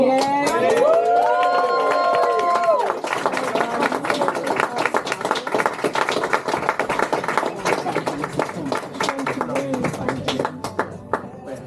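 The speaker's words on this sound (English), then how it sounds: "Can I have one more final cheer just for Hazel" Wedding guests give a final cheer and a long round of applause for Hazel at a wedding celebration, steady clapping over a voice and a brief melodic tone at the start, fading toward the end.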